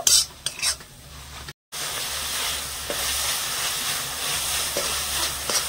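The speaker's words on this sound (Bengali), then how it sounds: "এবারে আর একটুখানি আমি ভাজা ভাজা করে নেব।" Melted jaggery filling for palm-fruit pitha fries in a pan as a spatula stirs and scrapes it. Close, continuous sizzling with faint scraping strokes, broken by a very short dropout near the start.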